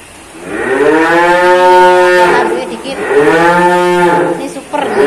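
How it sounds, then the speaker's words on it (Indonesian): A male Limousin bull at a cattle dealer's yard gives two long, loud, close-up moos, one straight after the other, with only a brief pause between them. "Ini ada Limusin jantan."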